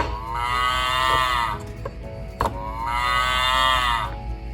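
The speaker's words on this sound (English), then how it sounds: "Cows make the sound moo." A cow moos twice, each call long and drawn-out, loud and close, with a short pause between the two calls.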